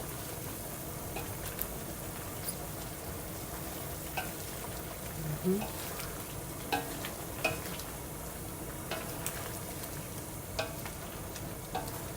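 Pork adobo with eggs and potatoes is stirred gently in a simmering pot, giving a constant low bubbling and sizzling bed with sparse soft ticks and light scrapes of the spoon. The sound is steady and close, with no talking.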